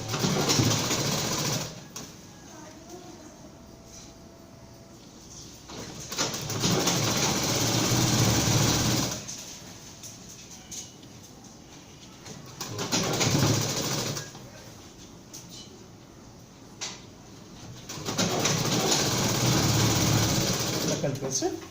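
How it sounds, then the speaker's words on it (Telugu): An electric sewing machine double-stitching the seam of a dhoti runs in three or four long whirring bursts separated by quieter pauses. It is close and clear, with a person talking in the background. "ఇలా కలిపేసి మళ్ళీ దానికి డబుల్ స్టిచ్ చేసేసుకుందాం."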